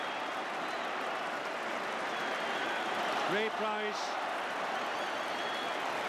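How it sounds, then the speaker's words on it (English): A rugby league crowd at a 1982 Ashes match keeps up a steady, distant roar and cheer, with a commentator's voice briefly over the top. "The crowd are roaring, the crowd are cheering."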